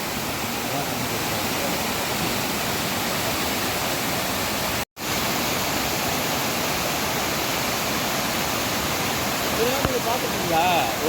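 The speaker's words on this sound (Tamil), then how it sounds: "இந்த மலையிலேருந்து வந்த நீர் அப்படியே பாஞ்சு கீழே மெயின் ஃபால்ஸ் குற்றாலத்துக்கு இந்த தண்ணி போய் சேரும்." Steady, loud roar of the Shenbagadevi mountain waterfall in Tamil Nadu rushing nearby, a continuous broadband wash with a brief dropout partway through and no voices.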